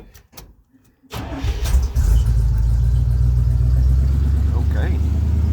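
Cold start of a 1978 Chevrolet 4x4 engine with a carburetor and choke: a few clicks and a short crank, then the engine catches and settles into a loud, steady, deep idle rumble up close.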